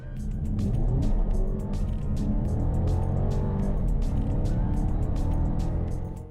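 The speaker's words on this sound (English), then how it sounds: "The noise. Doesn't sound great, this engine." A 2019 Mercedes A-Class engine accelerates from a standstill to 100 km/h, a loud, continuous rumbling roar with brief breaks that sound like gear changes, heard up close without talk.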